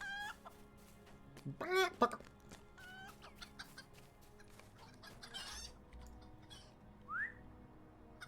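Chickens cluck in Lord of the Rings Online, moderately loud bursts around whistle-like calls and game effects over a low steady background, with a louder flurry near the start and scattered clucks after.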